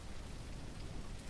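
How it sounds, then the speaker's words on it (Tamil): Steady rain pours down in a ranch simulation video game, a dense, continuous hiss of drops with low rumbling underneath, no voices. "மழை வேற ஸ்டார்ட் ஆயிடுச்சு கைஸ்."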